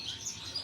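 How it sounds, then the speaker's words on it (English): Canaries in a bird shed chirp in high, bright bursts during breeding season, a brief run of quick tweets close by with no voices. "those males, they can sing so loud when they're in breeding condition"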